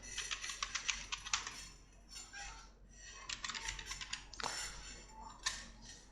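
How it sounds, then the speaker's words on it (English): A password is typed on a computer keyboard in short bursts of quick, light key clicks with brief pauses between runs, close and quiet, no talking. "So let me type it."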